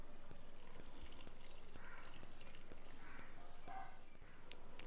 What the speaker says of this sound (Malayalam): നമ്മളിതിനകത്തേക്ക് ബീട്രൂട്ട് നന്നായിട്ട് വേവിച്ചെടുത്തതിൻ്റെ വെള്ളമാണ് അതിവിടെ ഒഴിച്ചു കൊടുക്കാം